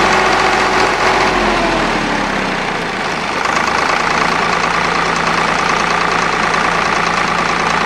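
A Swaraj 735 FE tractor's diesel engine runs loud and close, a steady knocking idle with a brief dip in revs before settling into an even chug.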